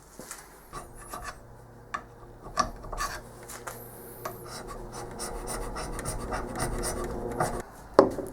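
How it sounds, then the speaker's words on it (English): Hand scraping a cast metal headstock to flatten it, with intermittent rasping strokes and scratchy scrapes at an irregular pace, close by over a quiet humming background. "it's time to do a lot more scraping"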